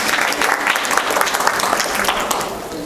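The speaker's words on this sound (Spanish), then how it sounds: "les pido un fuerte voto de aplauso para que presentemos este tema" An audience at a lecture on quality assurance in pre-analytical lab work applauds, a dense steady clapping that fills the room without a break.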